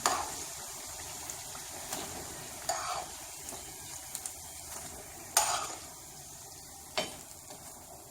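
Khaja pastries frying in hot oil, a steady close sizzle and crackle with occasional sharper pops and clinks from stirring, no voices.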